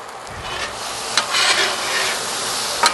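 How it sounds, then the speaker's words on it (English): Chicken fried rice with soy sauce is stir-fried in a pan, giving a continuous close sizzle with scraping stirs and a few sharper clinks of the utensil against the pan, with no talking. "Move it all the way around, get everything"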